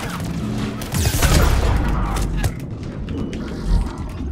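Enemy gunfire in Mass Effect 3 comes as a dense, loud barrage of overlapping shots and booms, heaviest early on, with scattered impacts continuing after.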